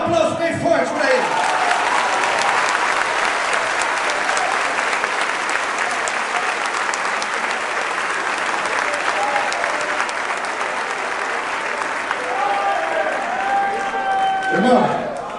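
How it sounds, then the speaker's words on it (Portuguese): A large audience at a Christian family congress in Bahia applauds loudly and continuously, a dense wash of clapping with voices and cheers mixed in and rising again toward the close. "Dá um aplauso bem forte para ele!"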